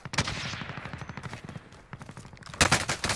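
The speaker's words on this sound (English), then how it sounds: "Oh, no, you're getting sniped at." Rapid bursts of video game gunfire in a shooter with snipers firing, a dense run of sharp cracks followed by a louder, heavier volley near the end.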